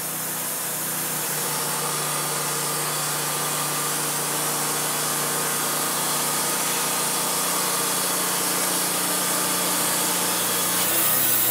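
Sawmill blade cutting through a log at a woodworking shop, a continuous steady rasping whine that holds at a fairly even level for the whole stretch with no talk.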